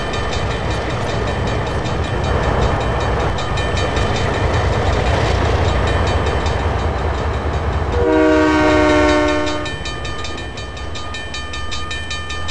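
A train horn in the Trainz Driver 2 game sounds in one loud sustained blast of stacked harmonic tones, over a steady rumble of rolling train noise, with no talk.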